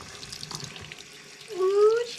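Tap water runs steadily into a sink while a pink philodendron is rinsed to clear spider mites, a soft continuous splash under a faint high tone, rising louder midway.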